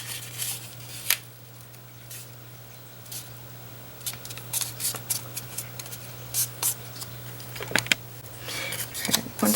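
Paper being folded and creased by hand for an origami Christmas tree, intermittent close crinkles, rustles and soft scrapes of varying loudness over a quiet hum.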